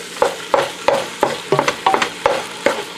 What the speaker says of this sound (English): as you can see what I'm doing like chopping because I want the meats to mix together